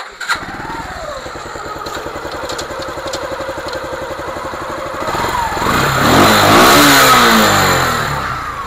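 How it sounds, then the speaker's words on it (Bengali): A motorcycle with a recently repaired fault started up close by, settling into a steady chugging idle before the engine is revved higher and louder, then easing back down. "গাড়িটা স্টার্ট করে সাউন্ডটা শোনাচ্ছি"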